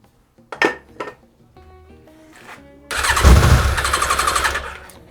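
A 350-euro motorcycle engine on starter spray turns over with a few sharp clanks, then catches and runs roughly and loudly for about two seconds before dying away.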